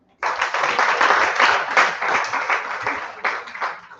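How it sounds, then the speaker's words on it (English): Audience clapping in a hall at a Rotary Club event, a dense and steady burst of many hands that begins abruptly, holds fairly loud for about four seconds, then thins and fades near the end. "please do clap for me"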